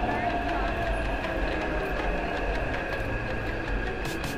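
Metro train pulling into a station in Taiwan, a steady loud rumble with high whine and hiss throughout, platform crowd voices audible underneath.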